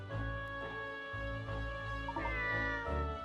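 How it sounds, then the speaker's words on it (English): A stray cat in the video game Layton's Mystery Journey gives one long, clear, sustained meow, close and loud over a steady tonal game music bed. "Look at that mangy little kitty!"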